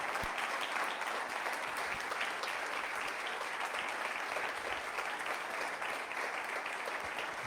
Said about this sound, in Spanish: Un aplauso a Javier.